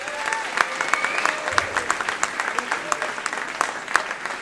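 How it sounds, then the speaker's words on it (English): A middle school pops concert audience applauds two young drummers, with brisk, dense clapping filling the hall steadily throughout and no break. "Will you give Parker and Riley a round of applause?"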